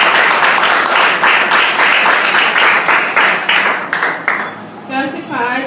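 Applause in a church during a Mother's Day service, a dense wash of clapping from the congregation that tapers off near the end, followed by a voice beginning to speak.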